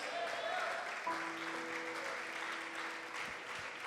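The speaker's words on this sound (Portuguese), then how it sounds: "aplauda mais forte o Rei da Glória" A church congregation applauds during a prayer service, a faint, steady wash of clapping heard from a distance, with sustained organ-like tones and some voices blended underneath.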